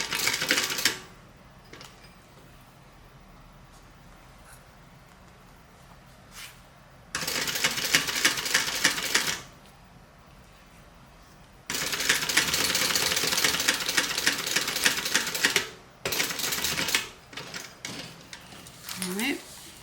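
Sewing machine top stitching a seam while making a Dollie, running in three bursts of rapid mechanical chatter separated by quieter pauses with faint handling sounds, close by.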